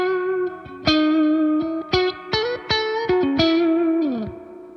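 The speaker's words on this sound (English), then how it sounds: "It's a spring reverb" An electric guitar played through a Game Changer Audio Light Pedal sounds a series of sharp plucked notes, each decaying into a metallic spring reverb tail, with no talking.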